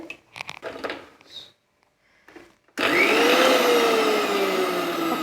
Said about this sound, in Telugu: ఒకసారి మిక్సీ తిప్పుకుందామండి